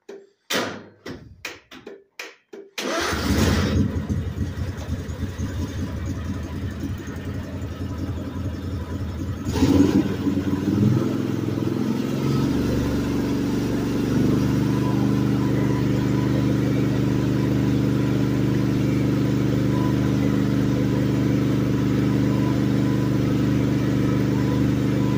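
A few sharp clicks and knocks come first, then an engine cranks and fires, settling into a steady loud idle with a brief surge partway through, while a PTO is tried.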